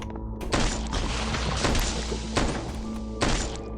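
Pistol shots in the zombie survival game Z Shelter, five or six sharp loud bangs spaced roughly half a second to a second apart, standing out over a dense background of game noise.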